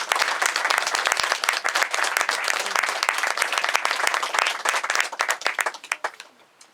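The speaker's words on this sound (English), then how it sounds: "Let's give her another big round of applause." A church audience applauds a performer after a story-and-song program, loud dense clapping sustained throughout before thinning into a few final claps.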